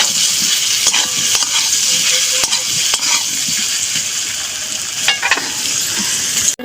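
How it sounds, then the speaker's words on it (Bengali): Tiger prawns fry in oil with turmeric and chili powder, giving a loud, even, close sizzle with occasional scraping taps from stirring and a sharp clack at the end. "অল্প দেবো আমি হলুদ গুঁড়ো, অল্প লঙ্কা গুঁড়ো, ভালো করে আমি এটা ভেজে নেব।"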